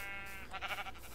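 A single sheep in the video game Terrafirmacraft gives one short, faint, wavering bleat.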